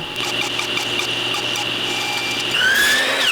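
Rapid rasping strokes of a saw cutting a wooden vise dog, close and steady, with a brief higher whine near the end.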